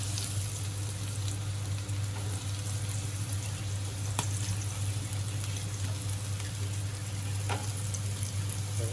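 Bangda mackerel frying in oil, a steady close sizzle and crackle that runs unbroken throughout, with a low hum underneath and a few sharper pops, no speech.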